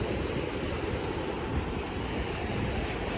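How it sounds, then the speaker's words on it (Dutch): Sea surf washing steadily onto a beach near a catamaran club, a continuous loud rush of breaking waves with wind noise buffeting the microphone throughout. "Ik hou mijn voetjes in de branding."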